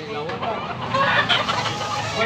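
A chicken at a poultry market in Tabunok, Cebu, clucks in short bursts close by, amid chatter and the background noise of a busy outdoor crowd.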